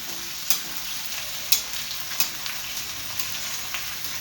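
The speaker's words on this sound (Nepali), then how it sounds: "अब यसपछि म प्याजलाई हाल्नेछु र प्याज हालिसकेपछि अलि चलाउनु पर्छ" Onions frying in a pan for chicken curry, a soft continuous sizzle broken by a few sharp spatula taps and stirring scrapes.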